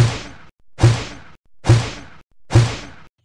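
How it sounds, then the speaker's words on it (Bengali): A cartoon missile launches and flies through the sky as four identical loud whooshing blasts, evenly spaced with short silences between them, each starting with a sharp bang and fading quickly. "ওই যে আকাশে মিসাইল উড়ে আসছে"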